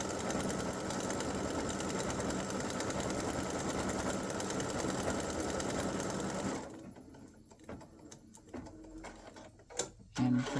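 An embroidery machine stitches gold thread on an appliqué Christmas gnome design, running steadily with a fast mechanical chatter for about six seconds. It then stops, leaving faint clicks and small knocks.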